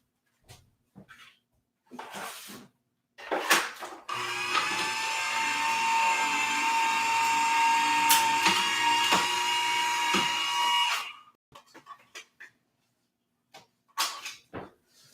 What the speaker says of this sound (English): I'm gonna quickly run this through my die cutting machine.